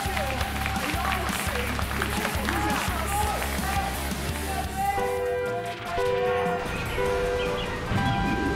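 Audience at a KartRider esports match applauding in a dense, sustained clatter, with a commentator talking over it and game sounds beeping toward the end.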